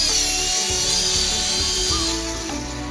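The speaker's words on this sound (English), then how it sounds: "I was interacting with this helicopter ball by its infrared sensors at the bottom" Infrared-sensor toy helicopter ball in flight, a steady high-pitched whirring buzz of small spinning rotors, close and continuous, with faint bumps underneath and no talking.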